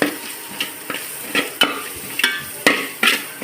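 Onions frying in a pan with turmeric powder added, a steady loud sizzle broken by regular scraping strokes of a spoon stirring, with no talking.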